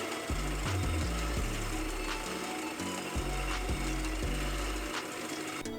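A lathe turns a shaft part in a home workshop, giving a continuous close mechanical hum with rhythmic low thumps and intermittent cutting scrapes, with no voices.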